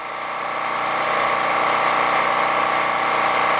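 A generator engine runs steadily on half choke with a constant, even mid-pitched drone, close and loud, no voices.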